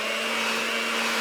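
An electric mixer beating keto pumpkin bread batter, a steady loud motor whine that runs unbroken and close for the whole moment, with no talking.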